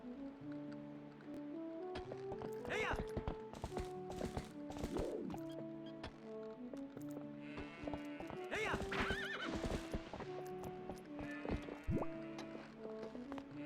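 Horse riding in Zelda: Twilight Princess, with steady clip-clop hoofbeats and several loud whinnies and snorts set against sustained game music, close and continuous throughout.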